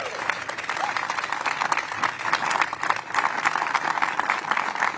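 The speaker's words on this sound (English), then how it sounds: "I deserve a round of applause" Sustained audience applause fills a public address by the New York City mayor about the New York Climate Exchange, dense and steady clapping from a large crowd throughout.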